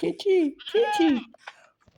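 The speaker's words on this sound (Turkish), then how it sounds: "Keçi." A goat in Minecraft bleats twice in quick succession, a wavering nasal cry, loud and close, followed by faint rustling.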